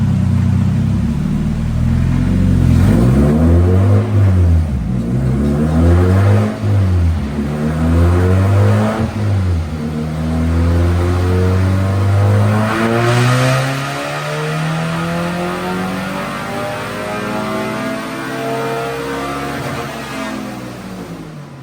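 A Spec Miata engine on a dyno runs through repeated rising and falling revs before one long climbing pull, with a loud, close, droning exhaust and no voices.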